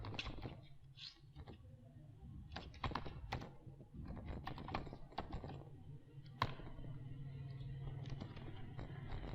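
Quiet typing on a computer keyboard, entering text with a text tool while designing a website; irregular soft key taps in bursts with brief pauses, close but faint.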